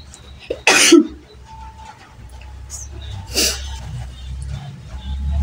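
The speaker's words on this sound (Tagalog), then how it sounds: "Binabahin tayo, inuubo-ubo tayo." A sharp, loud cough near the start, followed by a second cough a few seconds later, against a quiet room background.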